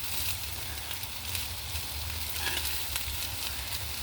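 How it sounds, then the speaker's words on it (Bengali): Fried dried fish from Cox's Bazar goes into pre-cooked spice masala and sizzles loudly and steadily, a dense close crackle with stirring, with no one speaking. "এখন আমি ভেজে রাখা আমার শুটকি মাছ আগে থেকে ভুনা করা মশলার মধ্যে দিয়ে দিচ্ছি।"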